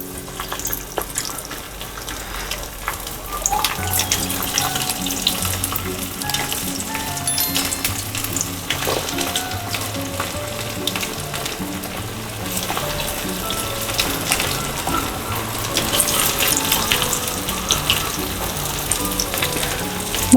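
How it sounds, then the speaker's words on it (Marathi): Small mung dal pakodas, made from split green gram with skins, fry over a very low gas flame in hot oil, giving a steady bubbling sizzle that runs throughout, with a few faint clinks and no talking. "आपण याचे आता छोटे छोटे पकोडे करून याच्यात घालायचे"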